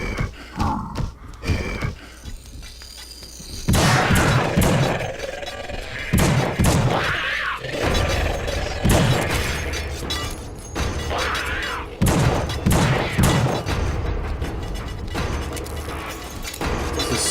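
Gunfire in the video game The Suffering, with repeated loud shots and thuds mixed with mechanical clatter and game effects, continuing densely throughout.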